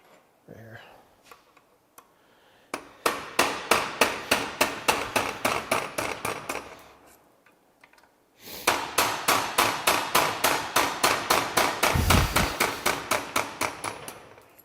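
A hammer drives a punch against lug pins while an NV4500 transmission is torn down. Two long runs of sharp, rhythmic metallic blows ring out up close, separated by a short pause, with breathing and faint movement between strikes.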